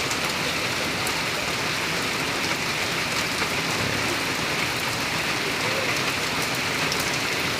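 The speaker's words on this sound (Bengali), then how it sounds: "খুব ভালো বৃষ্টি হচ্ছে।" Heavy rain pours down steadily in a rural setting, a dense continuous hiss of drops striking surfaces at constant loudness, with no speech and no breaks.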